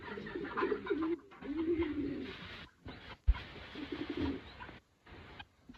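Well-fed racing pigeons coo in low, rolling phrases inside a loft, close by and fairly soft, with handling noises and brief quiet gaps between calls.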